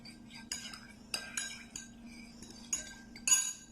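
A spoon stirs milk with a spoonful of red syrup in a bowl, giving a series of light, irregular metallic clinks and scrapes against the dish, close and alone.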